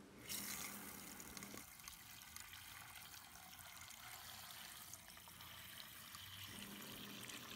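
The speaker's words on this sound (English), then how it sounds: "Time to fill the tub with water. We'll use the hose." Water from a garden hose pours steadily into a tub, a continuous splashing rush that runs without pause at moderate volume.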